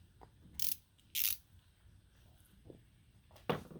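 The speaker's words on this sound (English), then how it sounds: "Gear wrench, 1/4 inch flex head with the detents." A GearWrench 1/4 inch flex head ratchet with detents clicks close up in three short bursts of rapid ratcheting, separated by quiet pauses, with no voices.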